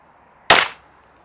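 A single sharp, crisp click as the trigger of a Ruger LC Carbine in 5.7x28mm breaks, loud and close, with a quick decay and silence before and after.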